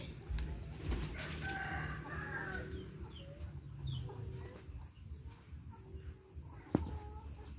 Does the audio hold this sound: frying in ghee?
no